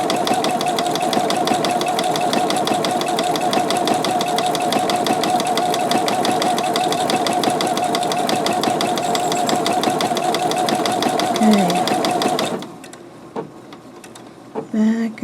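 A sewing machine stitching applique on fabric runs in a steady, loud, rapid mechanical whir for about twelve seconds, then stops, leaving quieter handling clicks.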